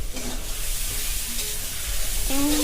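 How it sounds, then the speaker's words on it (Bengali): Spice masala for chicken curry fries and is stirred in a pan, a continuous close sizzle with soft scraping and no talking. "মশলাটা কষিয়ে নিই"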